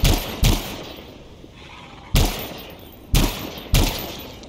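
Sniper rifle firing single shots in the game Anthem: five sharp, loud cracks, two close together at the start and three more spaced apart, each with a short decaying echo.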